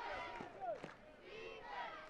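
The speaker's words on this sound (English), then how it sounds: "Crowd chanting defense." A basketball crowd chants in unison during a game, a rising, rhythmic group shout that swells and repeats, heard from a distance in the arena.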